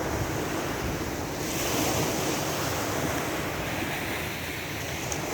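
Surf and wind on a beach produce a loud, continuous broadband wash with gusty wind noise buffeting the microphone, no voices present.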